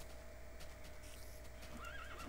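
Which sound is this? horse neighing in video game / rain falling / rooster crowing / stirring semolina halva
horse neighing in video game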